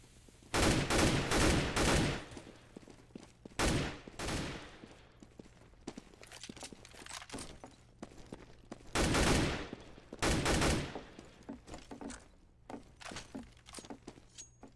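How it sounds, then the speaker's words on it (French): Loud Counter-Strike gunfire on the Mirage map during a Fnatic vs TSM pro league match: several separate bursts of rapid shots spaced through the stretch, with quieter gaps between. "il va tomber sous les balles de Xypnix"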